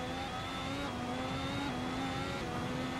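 A Ferrari engine in Assetto Corsa pulls hard, its steady high whine rising through the gears with brief dips at each shift, loud and continuous with no talk.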